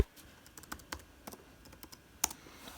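Typing on a 2010-era MacBook Pro keyboard to log in, a sparse, irregular series of soft close key clicks with one sharper tap near the end, quiet and without talk.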